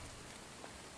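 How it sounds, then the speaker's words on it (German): Heavy rain in the video game The Infected, a quiet, steady, even hiss of downpour with no distinct drops standing out and no voices. "es regnet ja auch in Strömen"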